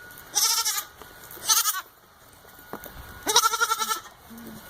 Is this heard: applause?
no